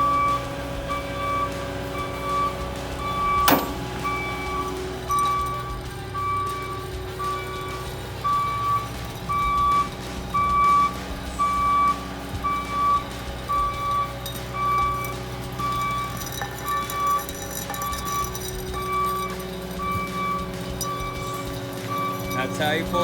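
A truck backs up with steady, repeated reversing beeps while pulling a scrap Jeep out of a garage. The engine hums continuously underneath, with a sharp clink early on and a voice speaking over the whole stretch.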